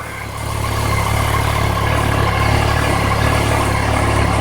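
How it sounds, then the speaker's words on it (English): A Yamaha FJ-09 motorcycle engine idles nearby while warming up, rising slightly after a moment, then holding an even mid-pitched running hum. "and the engine is warming,"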